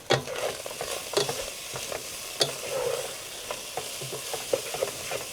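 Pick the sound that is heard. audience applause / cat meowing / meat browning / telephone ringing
meat browning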